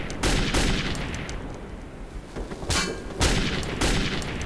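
Gunfire in the video game Metro 2033: a run of loud, close shots and bursts with reverberant booms, repeating unevenly through the clip with no talk.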